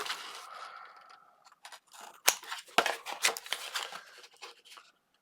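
Scissors snip through mitered paper corners on scrapbook album pieces, a quick series of close, crisp cuts and rustles after a quieter stretch of paper handling.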